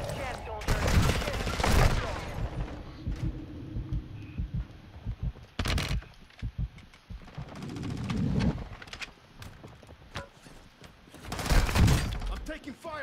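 Call of Duty Warzone gunfire comes in several loud, rapid bursts separated by quieter stretches, with sharp cracks and impacts, while players talk over the action.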